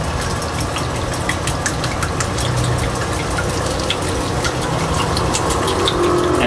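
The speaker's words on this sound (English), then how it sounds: "and I'm gonna give it a good whisk." Eggs whisked with coconut oil and a pinch of salt in a bowl for French toast, giving a fast, continuous run of light tapping and sloshing, close and even throughout.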